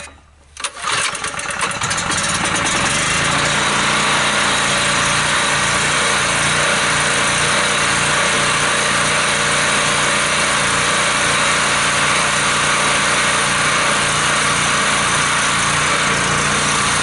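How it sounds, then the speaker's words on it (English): Champion small engine, a Honda GX200 clone, cold starting with a quick pull, then catching and settling into a loud, steady, high-pitched running drone close by. "It has a GX200 Honda clone on it."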